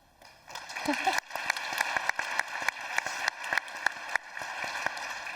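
Audience applause following an executive leadership talk on partnerships: a sustained, fairly close wash of many hands clapping with sharper individual claps poking through, swelling after a brief quiet start and holding steady.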